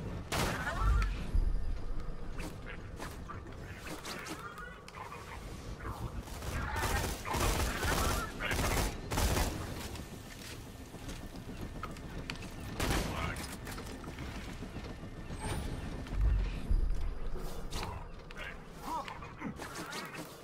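Gunfire from Roland's Scorpio turret in the Borderlands 2 video game, repeated bursts and shots spread throughout, mixed with game effects and music.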